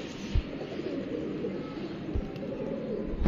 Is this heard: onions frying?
no